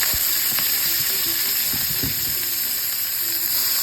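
Vegetables cook in a pan with a constant bright frying hiss and a few scattered clinks and stirring knocks, close and steady, with no one talking.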